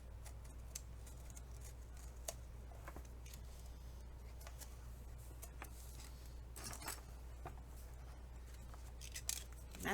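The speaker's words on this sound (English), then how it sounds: "I'm pulling on this as I'm just scratching through the paper, just barely." A craft blade barely showing scratches through book paper while gutting a book's interior, giving faint, intermittent scraping and crisp ticks over a low steady hum, with no talking.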